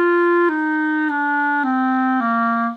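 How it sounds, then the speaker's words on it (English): A clarinet sustains an open G with all holes open, blown with medium air support, giving a steady, full, reedy tone that sags slightly in pitch a few times before stopping. "If I'm playing, say, an open G, which is the note we play with all the holes open"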